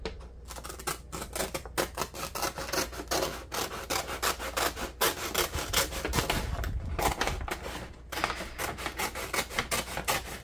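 Scissors snipping through a paper shopping bag being recycled for a jewelry craft, a long run of close, dry, rasping cuts in quick steady strokes with no talking.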